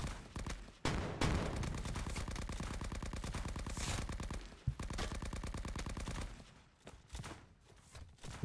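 Rapid, sustained bursts of automatic gunfire in the video game Rising Front, loud and close, broken by brief pauses and a few isolated shots.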